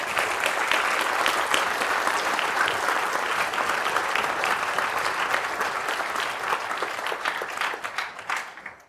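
A university library plenary audience applauds in a long, dense, sustained wave of clapping that holds steady for several seconds before thinning out and stopping.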